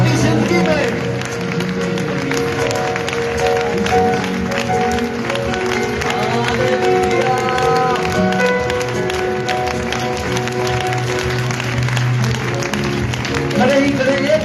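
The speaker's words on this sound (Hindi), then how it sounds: "ताली बजाते रहे मेरे पीछे के" A church congregation at a live Punjabi worship service claps steadily along with a loud worship song. Dense, continuous rhythmic claps sit under music and singing voices throughout.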